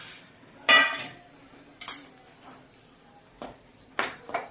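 Metal clinks sound as a lid goes back onto a cooking pot. There are several sharp, quiet chinks and taps, spaced apart against a hushed kitchen background.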